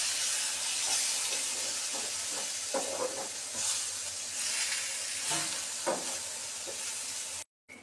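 Eggplant fritters fry in a pan with a continuous hissing sizzle, joined by scattered soft clinks and scrapes as pieces are turned, close and moderately quiet; the sound cuts out briefly near the end.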